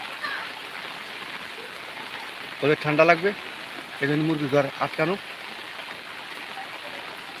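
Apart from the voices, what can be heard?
heavy rain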